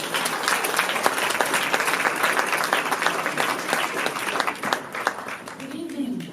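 An audience at a children's advocacy event in Detroit applauds a speaker, steady full-room clapping with scattered sharp claps standing out, a few voices mixed in, and a voice starting near the end.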